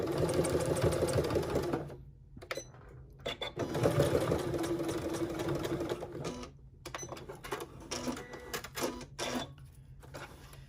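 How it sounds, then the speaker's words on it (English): A sewing machine stitches elastic for a headband in several quick bursts, its motor whirring and needle tapping rapidly, with short pauses between the runs of stitching. "I'm just going to stitch this elastic right across"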